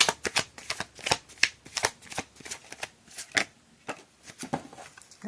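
Tarot cards being shuffled by hand, giving quick close riffling bursts in an uneven rhythm with short pauses between them, soft and clear with no talk.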